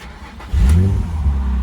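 A Nissan 350Z engine cranks and catches after an ignition coil change, settling into a loud, steady idle rumble close by with no talking.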